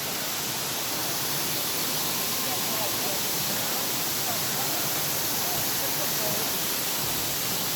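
Steady broadband roar of the waterfall at Pé da Serra in Barra do Garças, Mato Grosso, a continuous rushing wash that holds constant throughout with no clear break.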